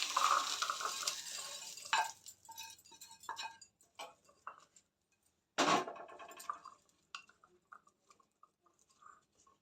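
Pots and dishes being handled in a home kitchen while food is served out during festival cooking: scattered clinks, scrapes and taps, with one louder clatter midway, then quieter intermittent knocks.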